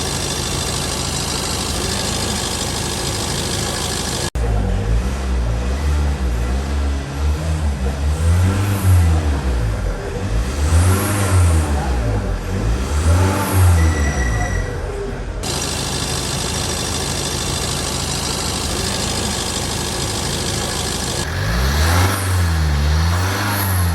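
Diesel engine of a Tata SUV runs after a Liqui Moly diesel purge, a steady close idle with rhythmic pulsing swells and a brief pause in the middle, no talk over it.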